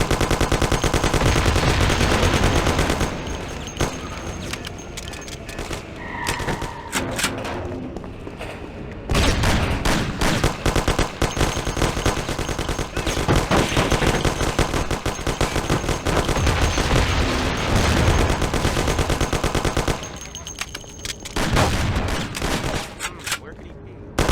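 Gunfire in the video game Mafia: The City of Lost Heaven comes in dense bursts of rapid machine-gun and pistol shots. Loud volleys are broken by short quieter gaps, with faint voices in between.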